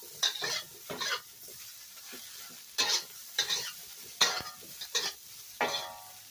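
Steak and eggplant stir-fried in a pan, with a spatula scraping and tossing in repeated bursts over a steady sizzle, about seven strokes spread unevenly across the stretch, close and clear with no talking.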